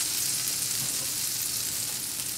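Two teaspoons of butter melting in a pan for bread chikki porichathu give a steady, close, bright sizzle, a continuous fizzing hiss with no talking.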